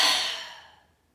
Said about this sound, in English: We want to try to avoid breath that sound like this.